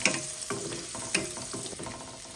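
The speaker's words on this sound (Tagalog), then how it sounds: "Then I will put garlic." Garlic frying in butter and oil, a close steady sizzle with several soft stirring scrapes at a loose rhythm, nobody speaking.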